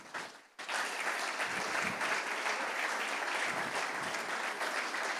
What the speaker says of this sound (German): würde ich gerne noch mal einen Applaus gönnen